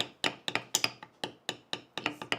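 Leather for trading cards being hammered, a steady series of sharp, fairly quiet taps, about four a second, each with a short decay, with no talking.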